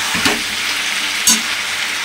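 Potatoes and browned meat sizzling together in a pan, a close steady frying hiss broken by two quick stirring scrapes.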